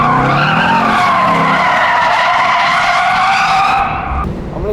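Ford Mustang drift car sliding with loud, sustained tire squeal and engine roar, close and continuous for several seconds before easing off at the end.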